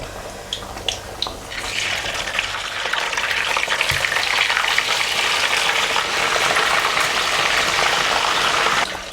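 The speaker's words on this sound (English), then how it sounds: "So while it's cooking, I will fry the meat." Meat frying in a pan while okra and ogbono soup cooks, a steady dense sizzle that swells after a few light clinks and holds loud and continuous to the end, with no talking.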